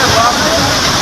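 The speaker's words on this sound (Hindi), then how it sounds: "जहां बारिश के बाद सूखे हुए झरनों से पानी बहने लगा है" Water pouring down seasonal waterfalls refilled by monsoon rain in Ranthambore, a loud, steady broadband rush that fills the whole clip, close and continuous with no pauses.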